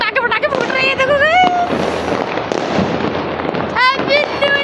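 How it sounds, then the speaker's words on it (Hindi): Firecrackers burst on a rooftop during New Year celebrations, a rapid crackling barrage with whistling rockets and pops, loud and continuous, with voices talking underneath. "और छत पे पटाखे फूट रहे हैं"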